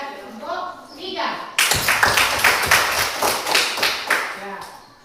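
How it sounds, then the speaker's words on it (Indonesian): A classroom of students claps for a presenting group, a sudden burst of dense, rapid applause that starts after brief talk and continues steadily before tapering off. "Nah, kita beri aplaus kepada kelompok 3."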